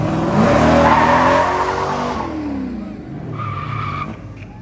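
Car tires squeal in a loud skid at a Veterans Day parade in Prescott, Arizona, a long screech that fades as the engine drops, followed by a brief second squeal.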